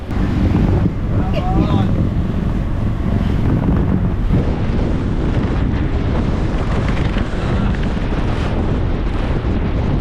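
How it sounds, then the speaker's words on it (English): Strong wind buffets the microphone aboard a small fishing boat about 8 km offshore on a tuna trip, a loud constant roar with rushing water and waves underneath throughout. "The wind had blown up shockingly."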